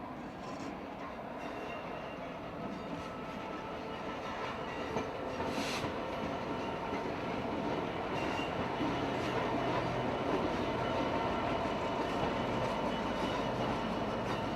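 A stone freight train runs along the main line at Clapham Junction, a continuous heavy rumble of wagons with faint wheel clatter and a light squeal building steadily throughout.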